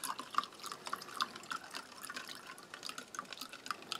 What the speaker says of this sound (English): using the spoon handle, just mix that up.